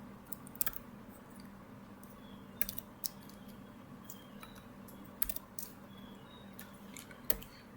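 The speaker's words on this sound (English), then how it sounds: "so I'm typing exact IP address, subnet, and gateway we just saw in command prompt" Soft, irregular clicks of keys being typed on a computer keyboard in a quiet room, close by with scattered louder taps.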